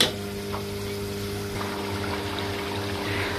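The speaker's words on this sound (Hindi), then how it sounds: "फिर इसमें ऐड करेंगे पानी हम।" Water poured into a pot of potato and pea pilaf being cooked, a steady, close-up liquid stream with soft trickling over a low continuous kitchen hum, no talking.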